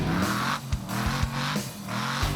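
A supercharged engine revs loudly and aggressively, its roaring blips rising and falling in repeated surges with short gaps between them and a whining edge on top, with no one talking.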